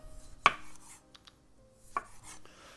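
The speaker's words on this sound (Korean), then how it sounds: "생으로 먹는 방울토마토는요 4등분 하겠습니다" A kitchen knife cuts cherry tomatoes into quarters on a cutting board, producing two sharp, quiet knocks about a second and a half apart against near silence.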